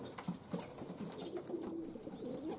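Young pigeons in a loft coo softly as the birds get their first time outside, low murmuring calls under faint background noise, quiet and close.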